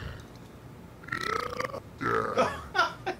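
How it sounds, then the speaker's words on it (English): A loud, drawn-out human burp with croaky, voiced gurgling, followed by a few shorter belching bursts in quick succession, close and dominant, with faint background noise and no clear speech. "He burps."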